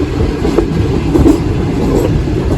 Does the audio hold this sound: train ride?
yes